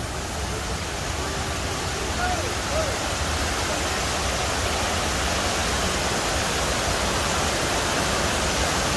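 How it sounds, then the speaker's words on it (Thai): The Ta Kwang Si waterfall in Guangxi rushes with heavy water flow, a loud, dense, unbroken roar that fills the whole scene, with a faint voice briefly audible beneath it. "ได้ยินเสียงน้ำตกแล้ว หัวใจเบิกบาน สวยงามจริงครับ"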